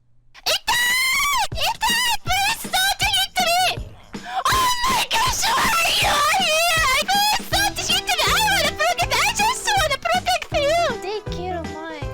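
Loud screaming and wailing voices on a VTuber livestream with a constantly peaking, clipping microphone, the shrieks rising and falling in rapid bursts almost nonstop over about twelve seconds.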